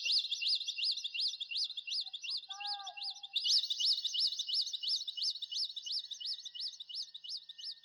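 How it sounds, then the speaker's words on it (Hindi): Birds chirp and tweet near a forest in a steady, rapid run of repeated calls that fills the whole stretch, loud and close, with a few brief lower tonal notes partway through and no voices. "देखो जंगल के पास पक्षी से आवाज भी लगाने लगे"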